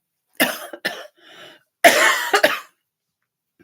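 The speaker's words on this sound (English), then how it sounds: "I am still coughing" A series of harsh coughs close up: two quick coughs, a softer one, then a longer hacking fit of several coughs, with silence between.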